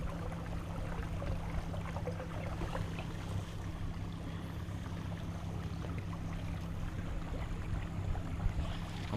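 An electric outboard motor drives a kayak along the Leeds-Liverpool Canal near Barnoldswick, giving a steady low hum that holds even throughout, close by, with constant water swishing and splashing around the hull and no voices.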